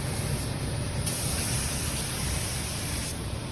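Sanitizing spray hisses into a car's HVAC vents and heater case, a steady close aerosol burst that runs through most of the moment without any speech.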